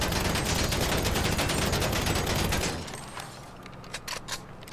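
Rapid, dense gunfire from shooting in GTA 5 rattles loud and continuous for nearly three seconds, then cuts off, leaving a quieter tail with a few faint scattered pops.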